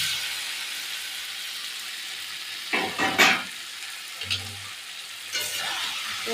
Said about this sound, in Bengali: দেখো আর একটু ভালো করে কষিয়ে নেবে